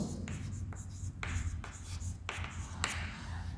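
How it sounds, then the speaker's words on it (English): Marker or chalk strokes on a board while writing out possible subsets of a set in a maths lesson, several distinct scratchy strokes with short pauses, close and clear with no talking. "Now we need to write possible subsets."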